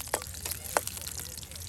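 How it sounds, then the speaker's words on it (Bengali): Onions and chilies fry in oil, giving faint, scattered crackles and small pops close by in a short, quiet burst. "পেঁয়াজ মরিচ ভেজে নিচ্ছে আগে তেলে"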